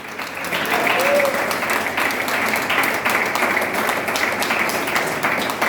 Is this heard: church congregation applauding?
yes